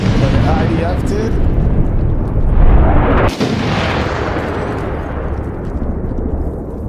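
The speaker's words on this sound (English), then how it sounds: "taking accurate mortar fire along phase line Isaac" Mortar fire in Six Days in Fallujah lands nearby as a heavy, roaring explosive wash that swells, then a sharp crack and boom hits midway, followed by a long rumbling decay.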